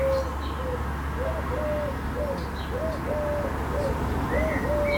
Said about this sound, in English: So currently in the background we've got that collared dove calling